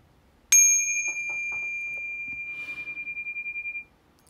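A small bell is struck once during a tarot reading, a clear bright ring with a long pulsing sustain that fades after about three seconds, faint murmuring beneath it.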